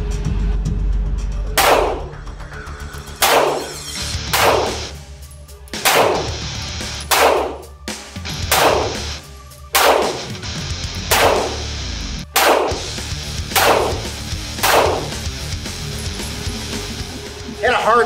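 Handgun shots fired one at a time at a target by a shooter wearing bulky winter gloves, about ten sharp loud cracks spaced a second or two apart, with a voice speaking between some shots.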